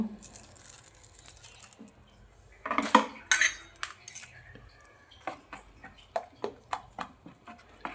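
A thin batter is mixed with water in a bowl, starting with a few louder clatters of a utensil and then settling into a rhythmic run of quick spoon clinks and taps against the side.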